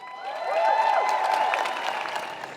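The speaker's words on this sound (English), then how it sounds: "Everyone give him a big round of applause." Crowd applause for a speaker introduced at an Aboriginal rally or community gathering, a steady wash of clapping that swells and holds for a couple of seconds without talk.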